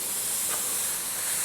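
A paint spray gun sprays unreduced paint while a helmet logo background is being painted, giving a steady, close, fairly loud hiss that runs unbroken with no voices.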